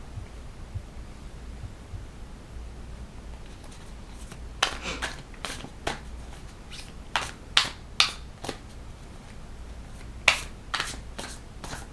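Tarot cards are shuffled by hand, giving crisp, scattered snaps and flicks that come in quick irregular bunches over a quiet, low background hum.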